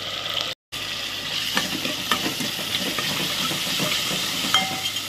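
Tomatoes sizzle and fry in a hot pan with cumin and garlic for ridge gourd curry, a steady close crackling hiss with occasional stirring clinks, no talking.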